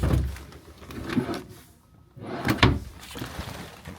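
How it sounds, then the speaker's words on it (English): A dresser drawer in a brand new Class A motorhome slides open and shut, giving soft wooden rumbles and a couple of knocks close by, with no talking. "Right here we got a nice dresser drawer."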